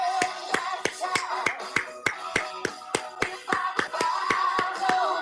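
A single pair of hands claps roughly fifteen times in a steady, moderately paced rhythm, sharp and close, with faint voices underneath.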